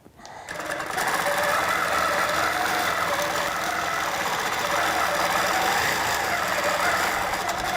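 A sewing machine runs continuously as it stitches along a fabric strip, a fast steady mechanical whir that starts abruptly and holds an even, close, loud hum throughout with no voices.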